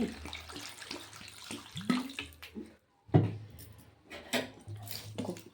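Water poured into a cooking pot over salt, kuzhambu chilli powder and turmeric while making a plantain-stem kootu, a splashing pour in uneven bursts with a short break midway, fairly close.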